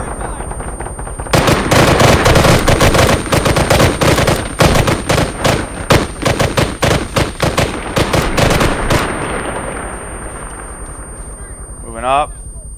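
Video game assault fire: rapid bursts of automatic gunfire, loud and close, pounding for about nine seconds before thinning out, with a voice speaking briefly near the end.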